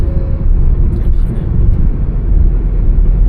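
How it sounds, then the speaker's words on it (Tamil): An automatic car accelerates near 2000 rpm and shifts up a gear, heard from inside as a loud, steady engine drone with a brief change partway through. "இப்போ கால் எடுக்கிறேன், அடுத்த கியர் அப் ஷிஃப்ட் ஆயிடுச்சு"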